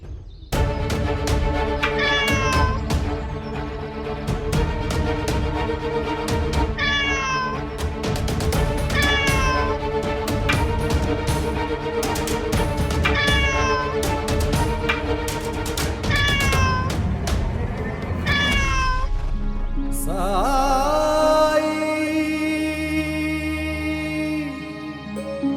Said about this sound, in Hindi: आप लोग इस बिल्ली को मार क्यों रहे हैं?